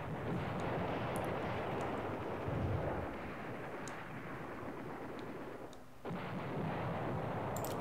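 Artillery in the wargame Command Ops 2 rumbles as a dense, continuous low roar of distant barrage, steady and heavy with a brief lull before it swells again, no voices over it.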